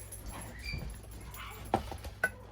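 Dogs whimpering and giving a couple of short, sharp yips nearby in a home kitchen, soft whines followed by two quick high cries.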